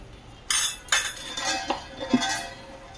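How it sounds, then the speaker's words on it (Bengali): Spice is stirred into raw mango pickle with a spoon, giving four or five separate clinks and scrapes against the bowl at close range. "এটাকে ভালো করে মিশিয়ে নেব।"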